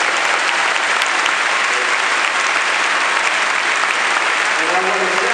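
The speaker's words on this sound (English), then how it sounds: "Can we give another round of applause?" A large audience applauding at a Nick Vujicic event in Ukraine, continuous heavy clapping with a constant roar-like density, loud and even throughout with no pauses.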